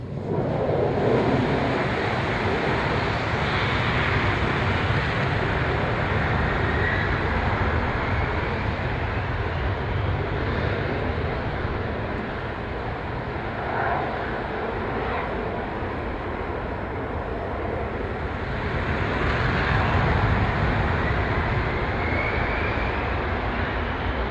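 An Air Force jet takes off, a loud, broad, continuous engine roar that holds steady for the whole stretch and swells slightly toward the end.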